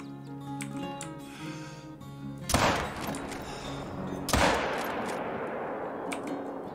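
Two loud rifle shots, about two seconds apart, ring out while hunting animals in theHunter: Call of the Wild, each with a sharp crack and a long rolling echo over quiet game ambience.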